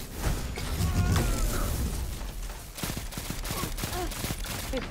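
Rapid bursts of pulse rifle fire in Destiny 2, crackling in clustered volleys with dense layered battle noise and other guns firing throughout the fight.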